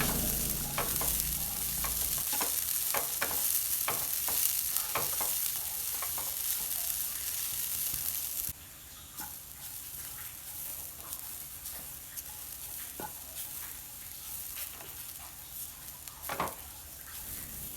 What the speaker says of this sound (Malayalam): ഒരു പാൻ വെച്ച് ഈ തേങ്ങ ഒന്ന് വറുത്തെടുക്കാം.